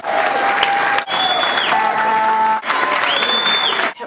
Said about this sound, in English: The inter-rotary club liked to cheer a lot.